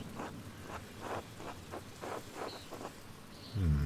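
Rain in the medieval adventure game Pentiment falls as a soft, steady patter with gentle rhythmic gusts, then a deeper low rumble rises at the close.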